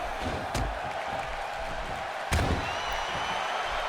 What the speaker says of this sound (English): the crowd cheering on the hometown king